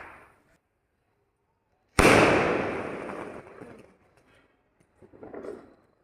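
Firecrackers go off outdoors at a festival celebration: a single sharp, loud burst followed by a long fizzing crackle that fades, then a smaller crackling burst a few seconds later.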